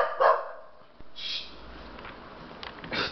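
A dog barks in short bursts indoors, a few loud close barks spread across a few seconds with quiet gaps between them, no talking over it.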